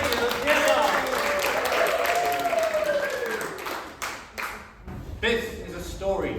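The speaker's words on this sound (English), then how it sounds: "Please give a round of applause to BBC Regular Theatre." An audience at a storytelling theatre performance at a folk festival breaks into applause, dense clapping that thins toward the end as a voice speaks over it.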